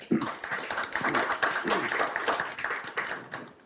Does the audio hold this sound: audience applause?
yes